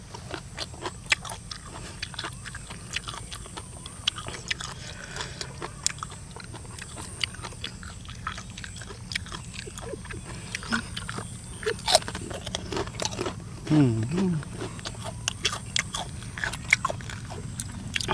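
Crunchy biting and chewing of spicy pounded whole cuttlefish-style squid salad, a steady run of close, sharp crackles and crunches, with a louder bite near the end and faint background noise.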